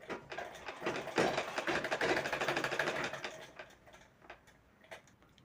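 Sewing machine stitching thread piping onto a blouse sleeve, a fast steady mechanical ticking run that swells loud in the middle and then slows into sparser stitches near the end, with no voices.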